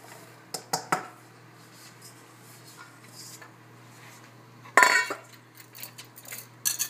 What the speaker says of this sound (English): So I'm just going to take and dump these vegetables in.